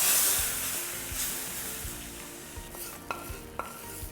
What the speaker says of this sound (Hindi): ये मसाले का छौंक जाएगा